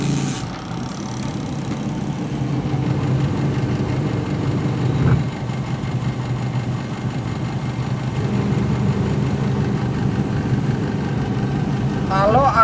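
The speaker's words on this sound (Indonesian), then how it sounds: "Saya akan putar timer pencucinya juga nih." A Sharp twin-tub washing machine, running after its 5 uF and 12 uF capacitors were replaced, hums through its wash cycle with a steady motor drone, a brief knock midway and a voice at the end.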